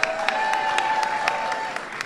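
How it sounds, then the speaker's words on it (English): At a Black History celebration, an audience applauds members of Congress and the Congressional Black Caucus. The moderate clapping is mixed with a few sharper individual claps, over a steady sustained tone. "Give them a big round of applause."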